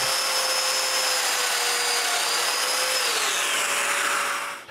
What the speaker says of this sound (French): Pour percer les mortaises au centre des côtés